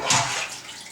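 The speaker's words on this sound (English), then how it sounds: "if you feel that you need more water, you can definitely add some more" Water pours and splashes into a plastic bag of turkey brine, a broad rushing gush that is loud at the start and then thins to a softer trickle over about a second, with no one speaking.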